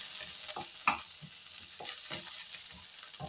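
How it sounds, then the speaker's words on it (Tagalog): Onion sautéing in a pan for pancit canton, with crackling sizzle and repeated scraping stirs of a utensil, close and continuous, with no talk. "gisa ko muna itong sibuyas."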